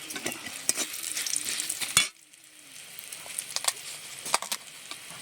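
Moong dal being stirred in a pan with turmeric and sugar, soft scraping strokes over a gentle sizzle, close up, a brief louder clatter midway, no voices.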